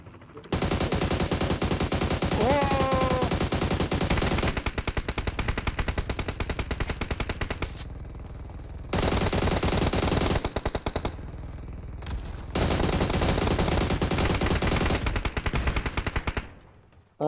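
Gunfire in the mobile battle royale game PUBG Mobile, featuring long sustained bursts of rapid automatic heavy-weapon fire, loud and close, broken by short pauses between volleys, with no talk over it.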